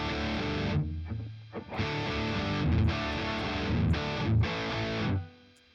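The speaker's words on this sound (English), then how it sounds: "Let's try distortion." An electric guitar plays through a distortion effect, loud and close, as crunchy chords ring out in bursts separated by short pauses and end in a final decay.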